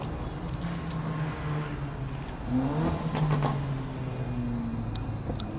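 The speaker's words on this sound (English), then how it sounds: "Loud car." A car engine rumbles past outdoors, swelling louder midway as it revs by, then fading back into a steady background hum.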